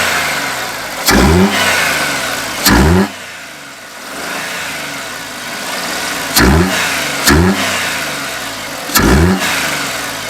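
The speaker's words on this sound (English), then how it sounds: "let's see what it sounds like with a few revs with the air filter." A VW Fox 1.2 petrol engine fitted with a cold air intake, blipped through five sharp revs in pairs and singles, each rising roar dropping back to a steady idle between them, close and loud with no talking.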